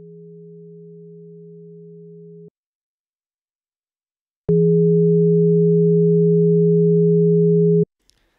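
Two pure sine tones at 150 Hz and 300 Hz sound together, first as a quiet steady pair for a few seconds, then after a pause much louder for several seconds, ending with a faint click.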